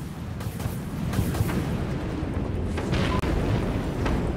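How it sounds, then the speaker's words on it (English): Missiles launch from silos aboard a ship in the game Dreadnought, a loud, continuous roaring rumble of thrust and booms with sharp bursts layered over it. "All silos launch missiles."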